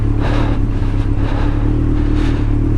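Big motorcycle engine, a Yamaha XJR 1200 or Suzuki GSX 1400, droning steadily and loudly up close while being ridden, with wind rush over a deep even rumble and no speech.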